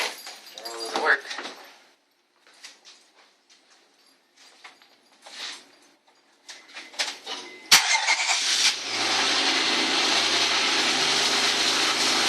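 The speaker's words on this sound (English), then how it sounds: "And I'm going to crank it up finally." A Honda Accord engine cranks and catches after an air intake install, settling into a steady idle; quiet rustling and handling sounds come before it, with a sharp click just as it starts.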